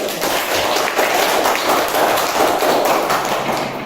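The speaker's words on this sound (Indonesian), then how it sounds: "kasih tepuk tangan dulu." A classroom of students claps together on cue, a dense, steady patter of many hands lasting several seconds at close range, without talk over it.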